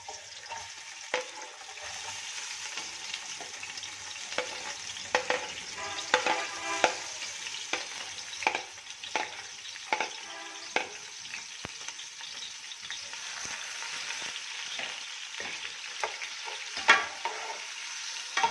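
Onions sizzle and crackle steadily in a hot pan, with occasional scraping stirs and pops; moderately quiet, no voices.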